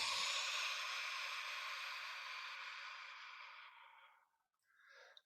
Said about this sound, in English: And again, breathe out.